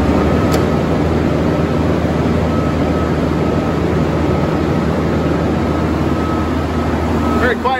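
A Dynapower 2000 amp 24 volt industrial rectifier runs with a constant, steady mechanical hum and whir, close and loud, with a faint high tone on top.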